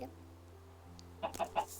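A Minecraft chicken gives a few short clucks near the end, brief and close, after a quiet stretch with a low background hum.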